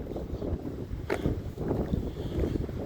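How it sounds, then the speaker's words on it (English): Strong wind buffets the microphone in a constant low roar, gusting heavily throughout with no voices. "Oh, it's so windy."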